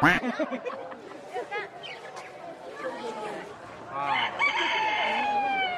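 A Brahma rooster crows with a long, rising call, with people talking over it and other hens clucking nearby.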